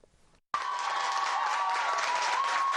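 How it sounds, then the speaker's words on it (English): Sustained applause from an under-18 volleyball team at a National Youth Day celebration, starting abruptly after a brief quiet moment and holding steady, dense and close for the rest. "Des salves d'applaudissements de l'équipe de volleyball des moins de 18 ans."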